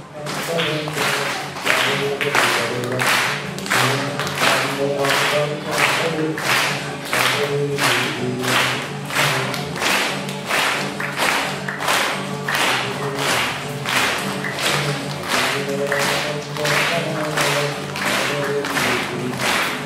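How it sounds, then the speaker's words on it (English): An audience claps in a steady rhythm along with a song, sharp evenly spaced hand claps continuing loudly throughout over a musical backdrop. "Would you clap your hands for us?"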